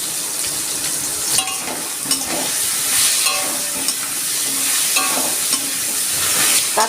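Raw green banana slices frying in oil in a pan with salt and turmeric, a steady close sizzle with stirring scrapes and small crackling bursts throughout, no speech.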